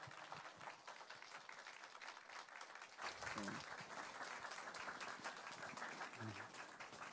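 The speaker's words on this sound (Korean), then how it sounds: "우리 뜨겁게 박수하겠습니다." A church congregation applauds warmly, dense sustained clapping from a crowd filling the room, continuous throughout without pause.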